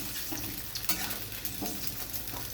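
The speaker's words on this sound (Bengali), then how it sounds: "আলুগুলো একটু ভাজা ভাজা হবে" Small diced potatoes fry in oil in a kadai while being stirred, giving a steady, close sizzle broken by a few scraping stirring strokes.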